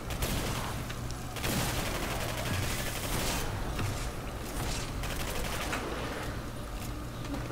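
Rapid bursts of gunfire from the video game Singularity as a barrel is shot, loud dense volleys repeating across the whole stretch with brief lulls between them.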